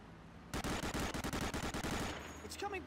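Automatic gunfire in Medal of Honor: Allied Assault rattles out in a loud, rapid burst of about fifteen evenly spaced shots, then cuts off into quieter game sounds.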